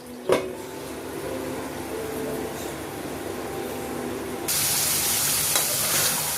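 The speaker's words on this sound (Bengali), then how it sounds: "আমার মশলাটা বেশ করে সটে হয়ে গেছে। মশলার গন্ধটা চলে গিয়ে তেলের উপরে এসে গেছে।" Spices sautéing in hot oil in a pan for a koi fish curry, a steady soft sizzle with a faint clatter near the start, then a brighter, louder hiss for the last couple of seconds.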